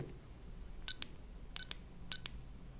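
A HiSEECON H1 smart soldering iron gives three short electronic beeps close by at a steady pace, each a quick double-toned bleep over faint background hiss.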